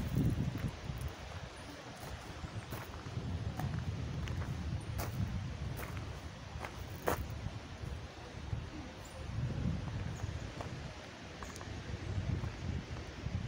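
Wind blowing outdoors at YS Falls on a sunny day, a steady low rumble that swells in gusts, with faint rustling over it and no speech.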